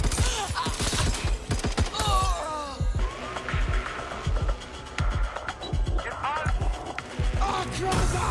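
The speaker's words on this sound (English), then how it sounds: "I'm taking fire." Rapid gunfire bursts in Watch Dogs: Legion, sharp repeated shots in clusters with clattering impacts, fairly close and loud, mixed with game voices and effects.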